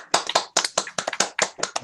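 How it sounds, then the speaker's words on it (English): Participants in an online meeting clapping for a speaker, a near, uneven burst of a few hands clapping in quick distinct claps, without talk. "we all try to applaud as best as possible"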